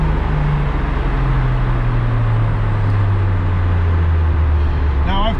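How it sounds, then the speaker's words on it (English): A Nissan Skyline coasts down on a dyno after hitting the RPM limiter, its loud drivetrain whine sliding steadily lower in pitch over a constant roar of rollers and fans, ending with a brief chirp. "we just hit the RPM limiter, let the vehicle slow down"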